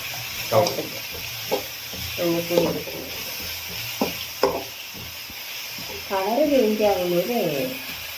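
Agathi (agastya) flowers sauté in a pan for a thoran, giving a soft, continuous sizzle with occasional stirring clinks while people talk over it.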